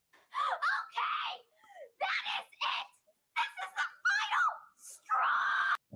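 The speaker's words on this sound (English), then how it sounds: "this kid likes to scream" A young child screams and wails in short repeated bursts, loud and shrill, from a video being played back, with brief gaps between cries.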